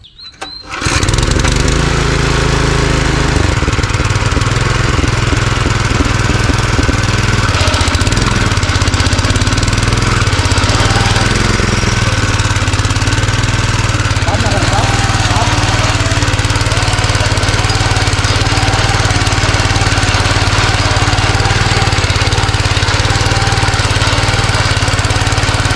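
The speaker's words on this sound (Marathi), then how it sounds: "आता हे 65 किलोमध्ये गिअर ड्राईव्ह मशीन आलेलं आहे." A 65 kg gear-drive power weeder engine runs steadily and loudly close by, a continuous droning mechanical roar with no speech, shown at an agricultural machinery showroom in Konkan.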